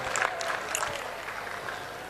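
An audience applauding to welcome a guest on stage at a religious gathering, steady crowd clapping at moderate distance with scattered cheers.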